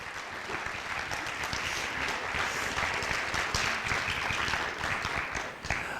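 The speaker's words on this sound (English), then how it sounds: "is a good time to clap" A high school auditorium crowd at a National Honor Society induction claps together, a dense, even wash of applause that holds steady and fairly distant throughout and fades slightly at the very end.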